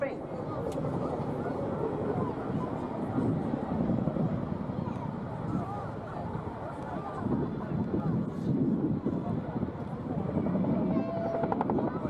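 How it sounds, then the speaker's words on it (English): An RAF Chinook helicopter powers into a rotating corkscrew climb at the 2019 Torbay Airshow, its twin rotors making a continuous heavy, thumping roar mixed with wind noise. "shortly he'll apply power and left pedal, taking the Chinook skywards into the Gordy corkscrew, rotating and climbing to 800 feet"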